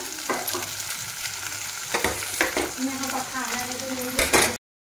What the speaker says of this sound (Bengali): একটু ভাজা ভাজা করে নেব। ধনের গুঁড়ো দিয়ে দিব, আলু সিদ্ধ করে রাখা,